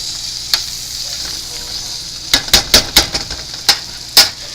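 Potatoes coated in butter or margarine sizzle steadily in a pan, with a cluster of sharp, close utensil scrapes and clacks against the pan during stirring.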